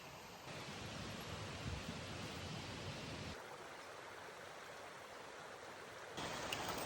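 A creek flows steadily near a waterfall trail at Raven Cliffs Falls, a constant broadband rush of water that holds even and continuous, with a slight shift in level partway through and no voices.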